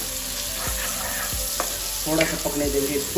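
Chopped onions hit hot oil in a pan and sizzle loudly and continuously, with a few knocks of a spoon and scraping stirs; someone speaks briefly over the frying.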